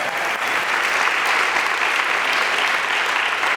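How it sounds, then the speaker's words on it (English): Steady, dense applause from a TEDxBuffalo audience at a live talk event, loud and continuous throughout without a break. "Let's give another round of applause for TEDxBuffalo"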